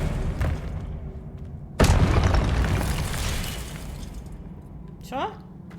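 Expelliarmus spell cast in the Hogwarts Legacy video game, a sudden sharp boom that decays into a rumbling wash, with a short spoken voice near the end.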